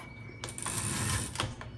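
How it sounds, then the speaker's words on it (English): The margin bell of an antique L.C. Smith No. 8 typewriter from around 1915 dings with a bright ringing tone, framed by mechanical clacks of the machine close by. "when you get to the end of your margin and the bell goes off"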